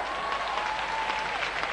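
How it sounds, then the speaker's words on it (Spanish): Steady, dense applause from a studio audience at a televised comedy interview, filling the whole short stretch at an even level with a faint tonal whistle running through it. "Señores, un aplauso"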